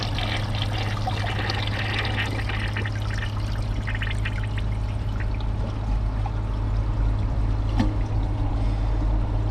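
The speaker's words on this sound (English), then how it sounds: "Here's the second flush." A Kohler Wellworth Ingenium toilet, a 2005 model, flushes with a steady, loud rush and pour of water that runs continuously and close by, with no talk over it.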